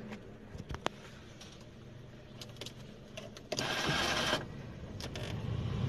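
A parked car's engine cranks and catches, a loud broadband burst about midway, then settles into a steady idle under low background noise, with small clicks and knocks before it.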